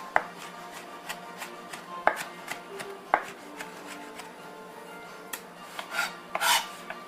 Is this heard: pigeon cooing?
no